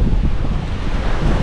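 Loud, steady rush of Super Typhoon Uwan's wind at landfall in Batangas battering the microphone, dense and unbroken.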